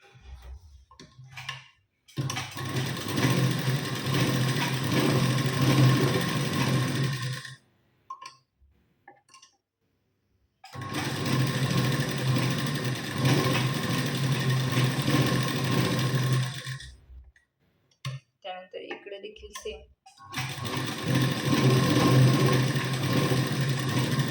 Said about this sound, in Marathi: तर इथं बघा मी आता शिलाई देऊन घेते.